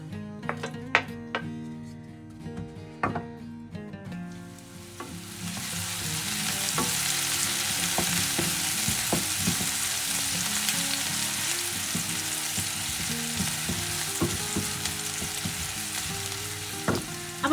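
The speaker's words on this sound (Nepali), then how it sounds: "फर्स्टमा त हामीले यो प्याजलाई नै हाल्नुपर्ने हुन्छ।" Onions hit hot mustard oil in a wok for a fish curry, and a loud, close sizzle bursts in after a few seconds of quieter tones, then continues steadily under recurring spatula clinks and scrapes.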